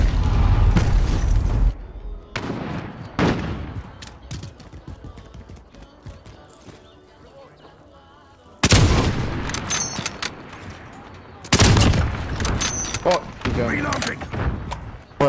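Gunfire in a first-person shooter video game, loud bursts and booms coming in dense blocks separated by quieter stretches of mechanical clatter.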